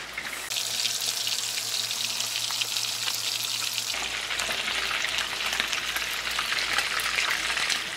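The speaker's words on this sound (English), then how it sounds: "we're just gonna leave that to fry" Yellowtail snapper sizzles and crackles steadily in hot oil, a bright continuous spitting hiss that grows busier partway through, with no voices.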